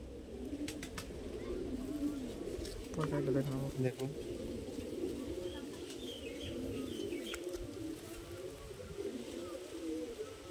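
Madrasi pigeons coo softly in low, rolling murmurs, with a brief flutter and chirps, while someone talks over them at close range.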